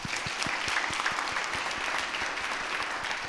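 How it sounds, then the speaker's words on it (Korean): A church congregation at a Sunday afternoon service claps for its ministers in a steady, even round of applause, moderately loud and heard alone. "한 해 동안 맡겨주신 사역 충성하게 감당할 수 있기를 우리 또 박수로 격려해 주시기 바랍니다"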